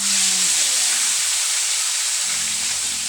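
Tilapia fries in hot oil with a loud, continuous broad sizzle and hiss, steady throughout, with a faint low tone briefly at the start.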